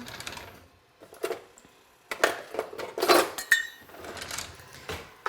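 A spoon stirs sugar into a pot of boiling water for kombucha, making clinks and scraping rattles against the metal in irregular bursts, close up and with pauses between.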